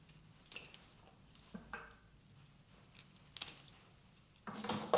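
Scissors snipping a leafing curly willow stem in a floral arrangement, a few sharp isolated clicks spaced apart, followed by rustling of the branch close by.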